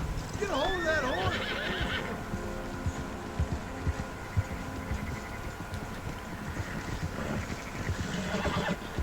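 A horse in the Red Dead Redemption 2 video game gives a loud shrill neigh near the start, then hooves clop steadily alongside shouting voices, with a second fainter whinny toward the end.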